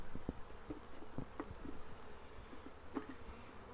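Faint buzzing of bees, with quiet intermittent taps and rustles against a soft background hiss.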